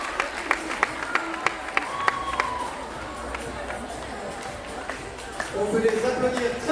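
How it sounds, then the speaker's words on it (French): Applause at a youth gymnastics results ceremony as medals are handed out, scattered claps at first that thin out into crowd chatter and movement, with voices rising near the end. "On peut les applaudir."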